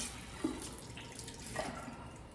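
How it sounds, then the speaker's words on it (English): Quiet, steady running water from a tap rinsing out a graduated cylinder at a lab sink, a continuous gentle splashing with small gurgles and no speech. "let's just rinse out our graduated cylinder here that we just used"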